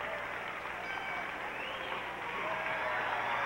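Spectators at a 1978 All Japan Women's pro wrestling match cheering and applauding steadily, a broad sustained roar of crowd noise that swells slightly toward the end.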